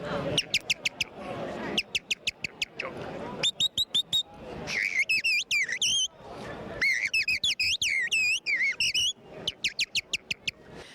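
Whistled birdlike phrases imitating blackbird song, bright warbling trills and slurred notes repeated in bursts, close and clear with brief pauses between phrases.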